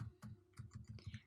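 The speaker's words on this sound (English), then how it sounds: "when you press the backspace, it will delete here recently entered the left side entry" A computer keyboard clicks in a quick run of light keystrokes, faint and close, as characters are deleted with the backspace key while editing a spreadsheet cell entry.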